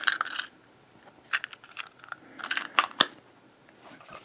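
Small plastic clicks and snaps come from a micro He-Man action figure's case being popped open and its little plastic insert lifted out, in brief close bursts with quiet gaps between.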